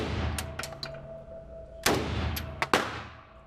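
AK-47 rifle shots ring out outdoors: a few sharp cracks at the start, then two louder shots close by near the middle and end, each followed by a short decaying echo.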